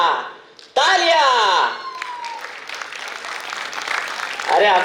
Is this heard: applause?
yes